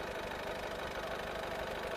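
Honda City V diesel engine idling with a steady low, faintly knocking rumble, heard close and alone for a couple of seconds.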